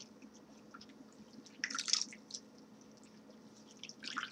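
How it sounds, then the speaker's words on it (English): Braided hair is dipped into a bowl of foam shampoo, giving soft wet squishes and drips, quiet and close, with two brief louder splashy bursts. "I pick up my bowl again, same bowl, and I dip the hair with the shampoo, the foam shampoo, in the bowl"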